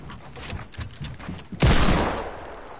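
Gunfire in Fortnite: a run of quick, close shots in a rapid rhythm, then a louder, sustained burst of heavy firing that slowly fades.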